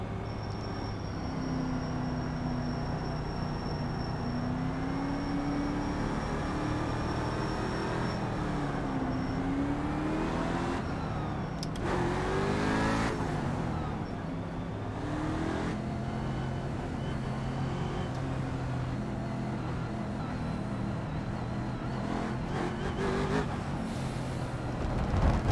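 Several race cars run laps, their engines droning steadily at a middle distance with pitch swells as they pass by, the roar holding at a moderate level.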